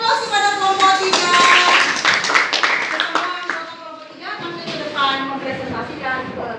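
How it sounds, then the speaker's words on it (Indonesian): Students in a classroom applaud a presenting group, a burst of clapping that swells loud for a few seconds then thins into scattered claps, with a voice talking over it. "Kita berikan aplaus kepada kelompok 3."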